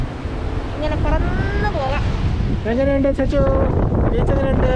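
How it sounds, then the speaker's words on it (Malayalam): Strong wind buffets the microphone at a beach with surf in the background, a loud, constant roar throughout, while people talk over it. "നല്ല കാറ്റുണ്ട്."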